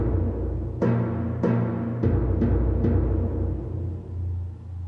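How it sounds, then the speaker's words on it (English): Five deep, booming timpani-like strikes sound from an organ at uneven intervals over a low sustained tone, each hit ringing out briefly. "these are the timpani drums that also are available on the organ"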